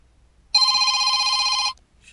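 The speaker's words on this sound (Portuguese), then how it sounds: "atender esse telefone aqui" Telephone ringing with a single bright electronic bell trill lasting a little over a second, loud and close, alone without talk.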